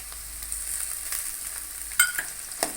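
Onion masala stirred in a pan for a pumpkin poriyal, with a soft steady sizzle and a few sharper scraping strokes near the end, no voices.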